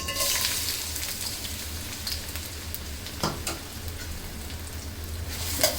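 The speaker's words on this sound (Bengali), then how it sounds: "এখন আমি নেড়ে চেড়ে পেঁয়াজটা বাদামি কালার করে নিব" About a cup of chopped onions fries in mustard oil for chicken biryani, a continuous soft sizzle under occasional scraping and tapping as the pan is stirred.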